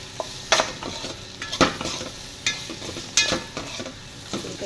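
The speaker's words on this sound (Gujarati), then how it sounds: "આની અંદર હવે આપણે કેપ્સિકમ આપણે નાખી દઈશું." Capsicum stirred into frying palak paneer in a pan, a soft steady sizzle broken by repeated scraping and clinking spoon strokes at close range.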